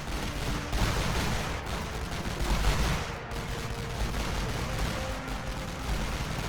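Massed rifle fire from thousands of soldiers in the WWI strategy game Elite Great War on the Western Front, a dense, continuous crackling roar of distant volleys, steady and loud throughout.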